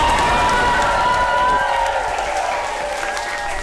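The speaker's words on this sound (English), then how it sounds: "Start giving a cheer for Power Down Pete!" An audience cheers and applauds loudly for the eco-warrior hero Power Down Pete, a dense burst of clapping and shouts that eases off slightly toward the end.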